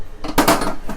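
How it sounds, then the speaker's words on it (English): A metal mixing bowl of pound cake batter is lifted off a stand mixer, giving one sharp clank followed by a few lighter knocks and rattles, close and alone. "take the bowl off the machine here"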